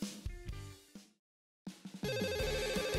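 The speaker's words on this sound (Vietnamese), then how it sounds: "Điện thoại tôi đang reo thì phải." A mobile phone rings somewhere on a cluttered table, playing a bright melodic ringtone that breaks off into a moment of silence and then starts again, loud and steady, with no voices.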